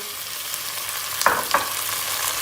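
Tomatoes and peppers stirred into sizzling tomato paste in a pot produce a soft, even sizzle, broken by two brief scraping strokes of a spoon.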